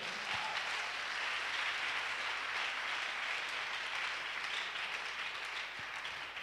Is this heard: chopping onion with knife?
no